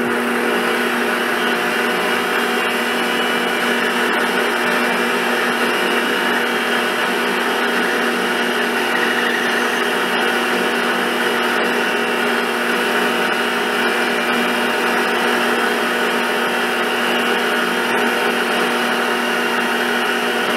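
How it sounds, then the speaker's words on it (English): A steady, high-pitched mechanical whine of a center drill cutting metal on a lathe-style job making a boring bar, running continuously and loud throughout with no pauses. "so I switched to a bigger center drill."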